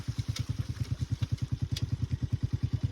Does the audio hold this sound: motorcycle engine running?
yes